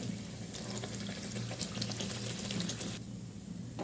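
Neyyappam frying in hot oil, a dense, steady close-up sizzle and crackle that continues throughout and thins slightly near the end.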